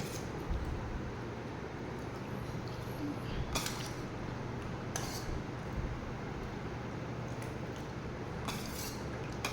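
A ladle serves dal onto a plate at a home meal. Faint, sparse metallic clinks and scrapes rise above a low background murmur.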